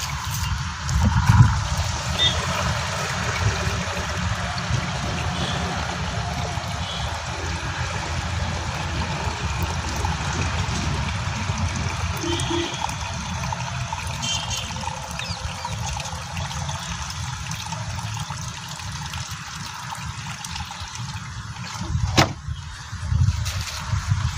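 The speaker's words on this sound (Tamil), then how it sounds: "நீ தான் தண்ணியை ஊற்றிட வேண்டியதான்" Water is poured and trickles steadily for a long stretch while a crop spray is mixed outdoors, a continuous close splashing dribble with small bumps near the start and end.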